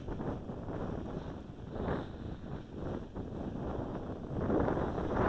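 Strong wind buffeting the microphone of a hovering Walkera QR X350 Pro drone, a continuous rough roar with gusty swells, loud and steady throughout.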